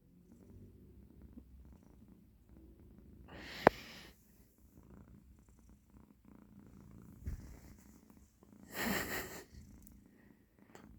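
A quiet, low rumbling purr from a cat close by, steady in the background, with a couple of brief louder breaths or snorts.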